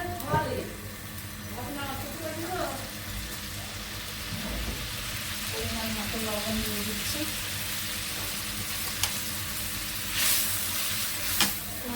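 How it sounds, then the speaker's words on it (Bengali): Vegetables go into spice masala sizzling in leftover fish-frying oil, giving a steady broadband hiss and crackle with stirring scrapes, under a voice speaking at intervals. "মশলা থেকে তেল বের হয়ে আসছে আমি দিয়ে দিচ্ছি তরকারি"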